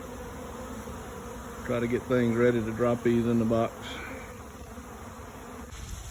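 A honey bee swarm that left its hive during an inspection hums in a steady background drone, swelling into a louder, close buzz for a couple of seconds while someone talks over it.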